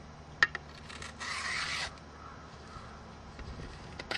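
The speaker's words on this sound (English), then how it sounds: "you're going to take this edge and you're going to sharpen it" A knife scrapes along a bamboo edge, steepening its angle to sharpen a fire saw: a single rasping stroke of about a second, with a couple of faint clicks before it, in a quiet setting.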